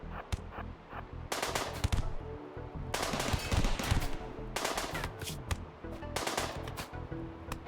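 Rapid automated turret gunfire in RimWorld, repeated bursts of sharp shots in clusters with short pauses, loud and close throughout.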